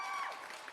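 Applause from an audience at a music awards show episode, a short continuous burst of clapping and light crowd noise, fairly steady and moderately loud with no talking.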